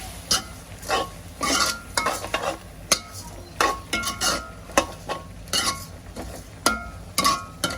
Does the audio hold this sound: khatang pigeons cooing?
no